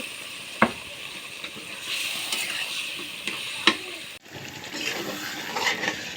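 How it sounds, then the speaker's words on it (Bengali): Pointed gourd and potatoes frying in spiced masala for rohu fish curry, a soft steady sizzle with a couple of sharp utensil clinks and a brief break partway through. "আমার মশলা কষানো শেষ। আমি পটল আর আলু দিয়ে দিচ্ছি"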